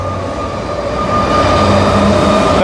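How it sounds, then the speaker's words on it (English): Vancouver SkyTrain rolling past, a loud, steady rumble of rail cars with a sustained whine that swells as the train draws closer. "that's our Sky train"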